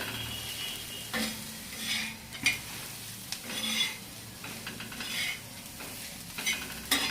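Village-style chutney is stirred in a pan, with intermittent scraping strokes of a spoon over a soft background sizzle, fairly quiet and close, with no voices.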